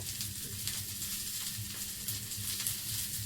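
Onion and green chillies frying in hot oil for a Maharashtra-style curry, a steady close sizzle with soft crackling throughout.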